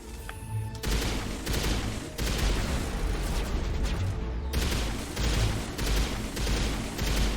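Gunfire in the game Mass Effect, loud sustained bursts of weapons fire with brief pauses, dense and close, with no talking.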